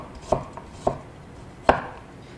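A knife slices a carrot into thin pieces on a cutting board, giving three sharp, spaced chops with small taps between them, close and clear.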